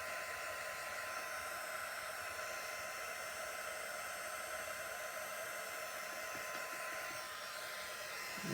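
Hair dryer blowing steadily up close to dry fresh paint on a chalk-painted project, a loud, even whoosh running unbroken throughout, with a brief bump at the very end.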